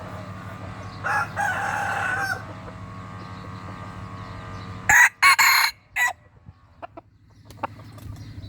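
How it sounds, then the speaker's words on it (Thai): A prized breeding rooster crows loudly and close by in two bursts, the second more broken, set against a steady low background hum with a few faint clucks near the end. "เป็นพ่อไก่ที่สุดยอดนะครับตัวนี้ครับ"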